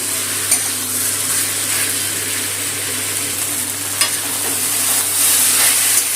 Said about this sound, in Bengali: কচুরলতিটা বেশ ভালো করে কষিয়ে নিয়েছি। ভাজা ভাজা হয়ে গেছে মশলাতে।